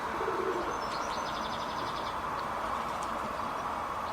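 An injured pigeon with a broken wing cooing amid other birds, a short run of rhythmic, low coos over a steady wash of background noise and distant chirps.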